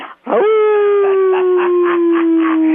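A long, loud wolf howl from a film excerpt holds one sustained, slowly falling pitch for over two seconds after a brief pause, with fainter yips and wavering cries pulsing beneath it.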